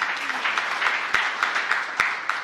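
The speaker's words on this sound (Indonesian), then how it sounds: "Tepuk tangan yang meriah bagi Tuhan" Congregation at an Indonesian church service applauds, a dense continuous patter of many hands with a few sharper louder claps standing out, fairly close and steady throughout.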